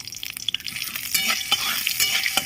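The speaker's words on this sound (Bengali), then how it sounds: "এক চামচ ঘি দিয়ে দিচ্ছি ঘিটা ভালো করে গরম করে নেব শুকনো লঙ্কা ফোড়ন দিয়ে দিচ্ছি" Dried red chilies temper in hot ghee, spitting and crackling loudly up close in irregular bursts of sizzle with occasional sharp pops, no talking.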